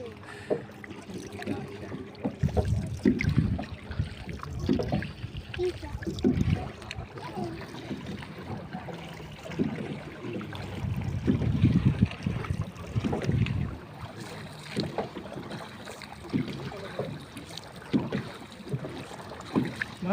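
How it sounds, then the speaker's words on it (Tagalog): A bangka ride on open water after a typhoon: engine rumble and water noise rise and fall over about twenty seconds under heavy wind buffeting on the microphone. "Tapos sasakay na naman kaming another bangka."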